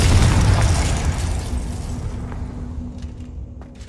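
A Confringo blasting spell in Hogwarts Legacy bursts with a loud, close explosion whose rumbling roar slowly dies away, leaving a faint steady tone and a few light clicks at the end.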